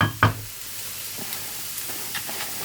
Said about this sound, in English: Hurry up, onion. Roast faster.